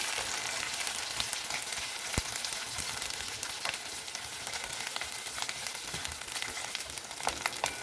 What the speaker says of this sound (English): Remember, the oil is hot. Let the gongura get mixed well with oil.